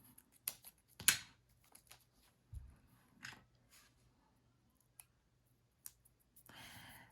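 Scissors trim a photo album sticker with a few sparse, sharp snips and clicks separated by near silence, close and fairly quiet, with a soft rustle at the end.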